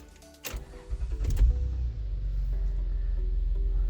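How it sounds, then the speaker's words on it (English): An Acura TL's engine cranks and catches, a brief starter whir giving way to a steady, close idle hum that settles and holds with no talking. "Go ahead and start the car."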